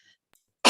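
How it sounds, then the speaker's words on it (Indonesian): A woman gives a single short, loud cough near the end after a brief quiet pause, heard close and alone. "maaf saya agak batuk"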